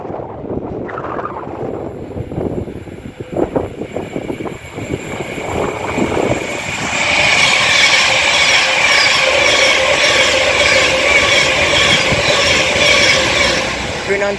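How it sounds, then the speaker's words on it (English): Pendolino train passing through Rugby station at speed, a rising rush of wheel and wind noise with a high electric whine that swells and holds loud, after quieter platform sounds and a voice at the start. "Pendolino coming through"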